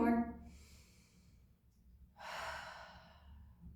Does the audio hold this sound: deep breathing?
yes